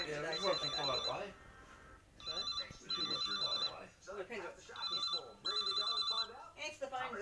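A bell-like ringing telephone from Fireman Sam sounds in repeated bursts, partly masked by people talking over it throughout.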